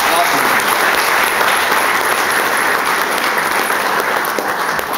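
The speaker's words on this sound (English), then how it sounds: "that's a round of applause for the organizers of this event." Loud, sustained audience applause for event organizers, a dense wash of clapping with possible cheering mixed in, continuous for the whole stretch.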